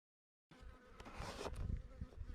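Honeybees buzz steadily around a hive as a freshly marked queen is released, a dense, continuous insect drone close by, starting abruptly and holding even throughout.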